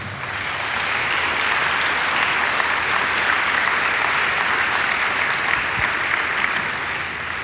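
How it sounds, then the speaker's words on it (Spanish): A church congregation claps for the Lord during a Spanish-language sermon, a thick, sustained roar of hands that swells in and stays full and even for several seconds, with no voice over it. "Dele palmas al Señor."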